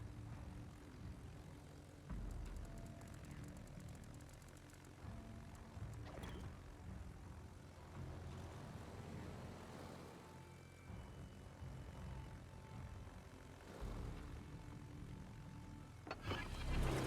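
A carrier fighter launches in a naval battle game, the Hakuryu's aircraft roaring up from a steady engine drone that swells and surges over about seventeen seconds, with thumps and a louder burst near the end.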